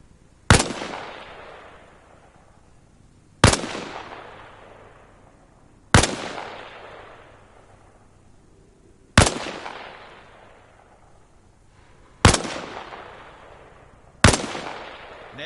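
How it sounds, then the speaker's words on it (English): Six single rifle shots fired at targets in the video game Arma Reforger, evenly spaced about three seconds apart, each a sharp loud crack with a decaying tail, with no other sound between them. "Only this time, fire from a kneeling position."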